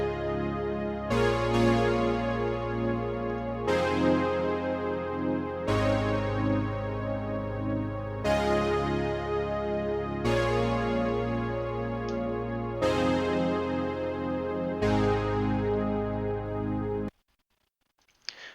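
Synth chord progression whose ending falls down instead of rising: a series of sustained chords changing every couple of seconds, loud and steady, then cutting off abruptly near the end.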